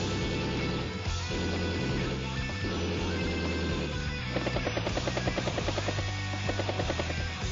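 Battlecopter helicopter units in Advance Wars: Days of Ruin give off a loud, continuous rotor whir with a steady beating pulse, blended with game music throughout.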